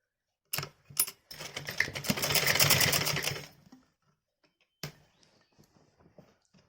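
Sewing machine running in one sustained burst of about two seconds while stitching a fabric top, flanked by a few sharp clicks and handling knocks, close and fairly loud, with quiet pauses after.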